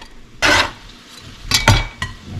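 A knife chops fresh cabbage on a cutting board in a home kitchen, giving one firm cut followed by a quick cluster of sharp, close knocks and light clatter.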